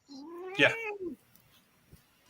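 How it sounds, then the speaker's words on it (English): A domestic cat gives one clear, drawn-out meow close by indoors, followed by a shorter trailing cry, with a brief spoken word just before and a quiet room after. "I thought I heard a cat"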